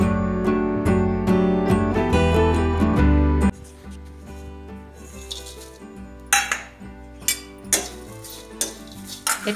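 Fennel and fenugreek seeds dry-roasting in a pan for ghati masala: loud background music fills the first few seconds, then sharp metallic clinks and scrapes of a spoon against the pan ring out sporadically, with no speech.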